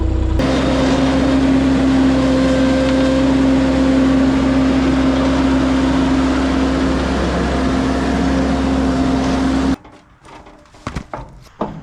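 A mini skid steer with a forestry mulcher attachment drones steadily as it rolls into a trailer. The engine holds a loud, even hum with a sustained whine, then cuts off abruptly near the end, leaving a few scattered clunks.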